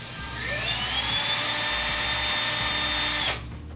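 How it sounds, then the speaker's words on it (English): A power drill bores a pilot hole into a wall for a floating shelf bracket, a steady loud whine that rises in pitch as it spins up, holds for about three seconds, then cuts off abruptly. "you're going to take your drill with the drill bit that's slightly smaller than your hardware, drill in about half the length"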